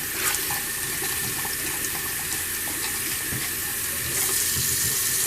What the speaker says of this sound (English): And I just fill it up with water.